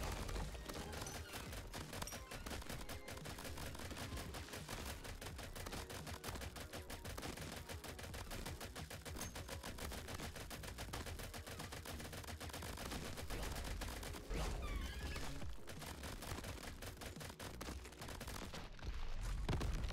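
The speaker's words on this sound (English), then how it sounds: "Because the gun's shooting so fast." Fast, relentless gunfire from the crab roguelike shooter Crab Champions, a dense unbroken stream of shots running the whole time at steady high volume, with no pause and no talking.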